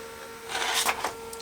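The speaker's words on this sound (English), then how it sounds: "You can see it's printing out, and it's coming out on the printer there." A home printer feeds and prints a page, whirring and rasping for about a second with a steady tone running underneath, close and moderately loud.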